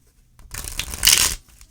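Tarot cards being riffled and shuffled by hand, a crisp, papery flurry that builds quickly and peaks before stopping, close and clear with no talking.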